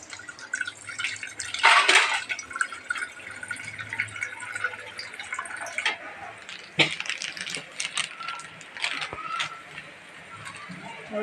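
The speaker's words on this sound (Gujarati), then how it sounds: "જો આપણે પાણી નાખી દઈએ થોડું." Water splashes and drips into a pan while chutney is being made, with a sharp pour near the start and scattered clinks and trickles after it, close by, over a low background hum and faint voices.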